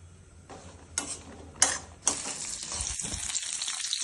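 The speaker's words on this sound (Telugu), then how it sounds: "ఈ ఆయిల్ కొంచెం వేడెక్కిన తర్వాత మనం ముందుగా కడిగి పెట్టుకున్న పచ్చిమిర్చి ఉన్నాయి కదా అవి ఆయిల్లో బాగా ఫ్రై చేసుకోండి" Green chillies fry in hot oil with a steady, fairly loud sizzle that swells in a few sharp bursts and then holds as a continuous hiss.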